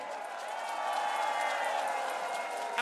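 Applause from a large crowd of around 18,000 at an outdoor evening concert on a station square, a steady wash of clapping and cheering that holds loud and even throughout.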